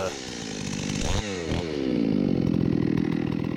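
A ported Stihl MS390 chainsaw, a Farmertec 038 build, revs up and roars while cutting firewood, its pitch rising and falling before settling into a sustained loud scream.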